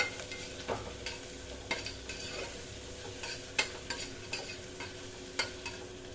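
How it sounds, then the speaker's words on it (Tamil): Onions sautéing in a pan for banana flower biryani, a steady low sizzle broken by sharp scraping clicks of stirring every second or so, close and fairly quiet with no talking. "வெங்காயம் நல்லா வதங்கட்டும்."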